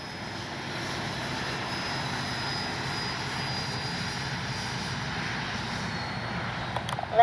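An FMS Integral 80mm electric ducted-fan RC jet flies a landing approach, its steady whooshing whine holding at a moderate, fairly distant level throughout, with no talking.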